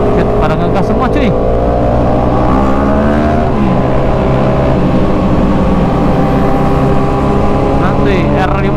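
Motorcycle engines rev hard and loud on a Sunday-morning group ride, a steady roaring drone with rising and falling pitch sweeps as several bikes throttle up together, while riders talk over the noise.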